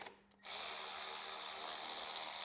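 A power tool whirs steadily as it backs out 13 mm bolts from the fuse panel and ECM holder on a 2023.5-up Harley-Davidson, starting after a brief pause and running continuously close by.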